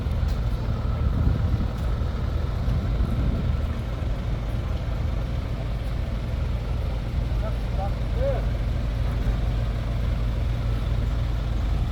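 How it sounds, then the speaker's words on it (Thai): A convoy of trucks carrying stage, lighting and sound equipment for a Thai mor lam show rumbles along, with steady heavy diesel engine drone throughout while someone talks over it. "คาราวานทีมงานรถคอนวอยเด้อรถบรรทุกอ่าอุปกรณ์การแสดงรถบรรทุกเวที"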